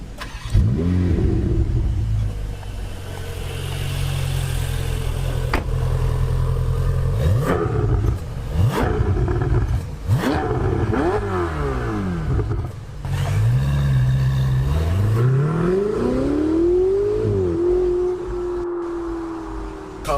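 A Ferrari 488 GTB engine revs repeatedly, rising and falling in sharp sweeping bursts over a steady idle, loud and close, with throttle blips scattered across the span.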